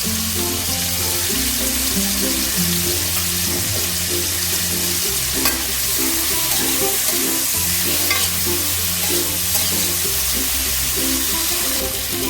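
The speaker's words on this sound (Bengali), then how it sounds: "চিংড়িগুলোকে একইভাবে আমি ভালো করে একটু ফ্রাই করে নেব" Prawns frying in a pan with ground black pepper for restaurant-style mixed fried rice, a loud continuous sizzle with scraping stirring throughout, close and alone with no talking.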